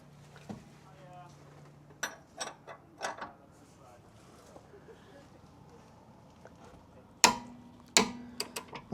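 A torque wrench tightens the rear damper bush bolt on a Jaguar XK8, giving scattered metallic clicks and ratchet ticks with clanks. There is a sharp cluster of clicks near the end, and a voice is heard briefly.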